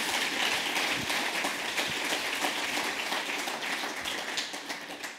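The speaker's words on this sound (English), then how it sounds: "So I think this is worth a real applause to welcome her." Warm audience applause welcoming a nature writer to a reading event, a dense patter of many hands clapping steadily, close and full, gradually tapering toward the end.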